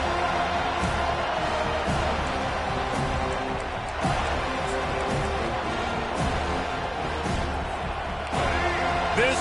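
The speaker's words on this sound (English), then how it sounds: "This crowd bringing an ear-splitting welcome to their visitors." Dense stadium crowd roar from an NCAA college football video game, a steady loud wall of cheering that swells in places, with commentary voices running over it.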